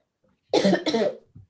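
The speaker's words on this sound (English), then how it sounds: "I must apologize, I do have a cough." Two quick, sharp coughs close to the microphone, followed by a soft throaty sound.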